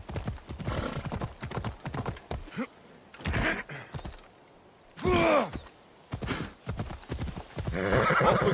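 Horse in the video game Assassin's Creed Odyssey, rapid rhythmic hoofbeats in bursts, a loud whinny partway through, with a player's brief voice and sighs between runs.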